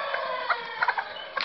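Several short, nasal hen clucks in quick succession over a steady background murmur of birds, close and moderately loud.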